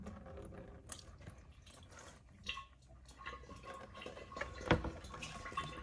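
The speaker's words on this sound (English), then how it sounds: "there's still oil left in the engine in this specific spot, and that's what's dripping around the side at the moment" Engine oil drips from the loosened oil filter on a 2015 Dodge Challenger Scat Pack during an oil change, making quiet irregular patters and small splashes close by, with one sharper drop standing out.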